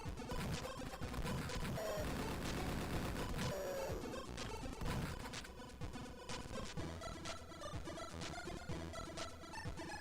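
Machine gun fire in an Atari ST video game, rapid chiptune-style bursts layered over busy game music and sound effects, dense and continuous throughout.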